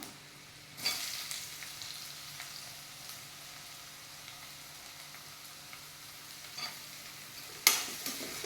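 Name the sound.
chopped onion frying in coconut oil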